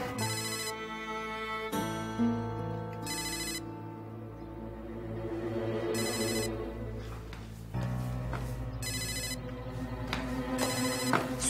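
A telephone rings with a bright electronic ringtone in repeated bursts separated by pauses, fairly loud and close, over soft background music with no talking.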